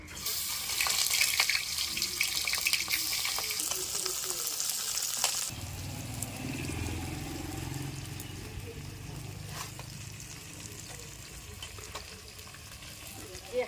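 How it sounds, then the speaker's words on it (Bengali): Small fish slide into hot oil in a home kitchen, and a steady broadband sizzle and crackle runs close and loud throughout, with a lower, fuller frying tone in the second half. "মাছগুলো মাখানো হয়ে গেছে তেলটা গরম হয়ে গেছে মাছগুলো ছেড়ে দেবো"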